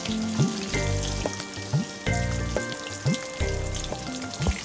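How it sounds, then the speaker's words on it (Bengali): Hilsa fish frying in hot oil gives a steady close sizzle, with repeated sharp crackles and pops every second or so. "এদিকে মাছ ভাজা হচ্ছে"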